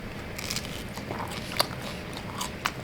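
Crunchy dough of leftover cast iron pan pizza being bitten and chewed close up, a steady soft crunching with a couple of sharper crackling bites standing out, no talking over it.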